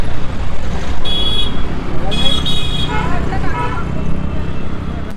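Auto-rickshaw engines and traffic fill a road in Dehradun with loud continuous rumble and a couple of short horn toots, while people talk over the din.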